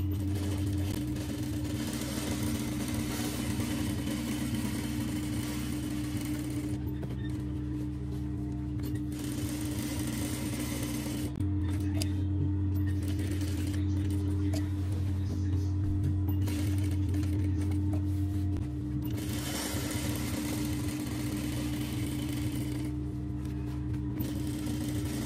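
A sewing machine stitches a kandura dress, its motor running in a continuous whirring drone with short pauses and stretches that change pitch, all close and steady the whole way through.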